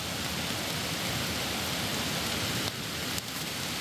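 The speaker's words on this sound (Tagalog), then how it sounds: "Sobrang lakas lang ng ulan." Heavy rain pours down steadily during a mountain climb, a dense, loud hiss that stays constant throughout with no voices over it.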